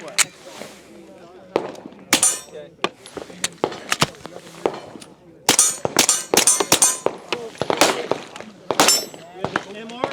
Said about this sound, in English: Let's shoot one more through here.